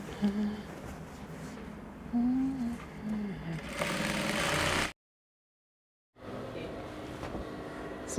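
A sewing machine hums steadily while hemming a bubu dress, with a brief burst of faster stitching before it stops, a short silence, and then it resumes, along with some soft incidental noise.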